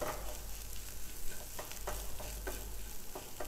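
Spiced potatoes being stirred and mixed in a pan right after the gas is switched off, with a low steady sizzle under repeated scraping strokes of a spoon, close and fairly quiet, no talking.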